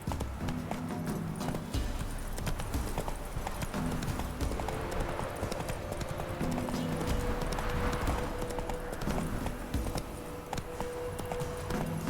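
Roach the horse galloping in The Witcher 3, a steady rapid clip-clop of hooves with an occasional whinny, continuous and fairly close throughout.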